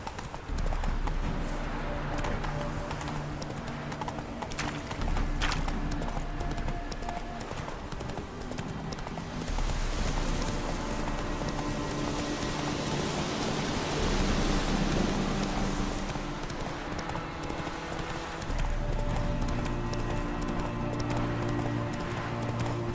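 Clip-clop of the horse Roach's hooves in The Witcher 3 game, a steady loud rhythmic trot running throughout over a rain-like wash and low game music.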